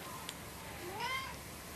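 A cat lets out a soft, rising meow partway through, faint and close, over a quiet background hiss.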